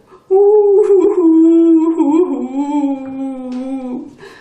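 A voice mimics crying with a long, wavering wail that drops in pitch, sounding like a whimpering howl, close and loud.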